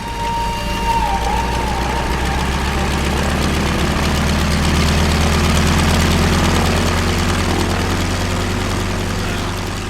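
Airplane engine sound effect in a light and sound show, a steady loud droning propeller-like roar with deep low rumble sustained throughout.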